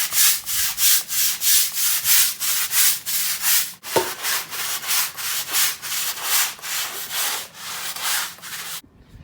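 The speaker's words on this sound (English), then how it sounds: "all I got to do now is scrub the drive" A driveway is scrubbed with a stiff brush in steady, rhythmic back-and-forth strokes, loud and close, with a brief sharp knock midway before the scraping resumes and then stops abruptly.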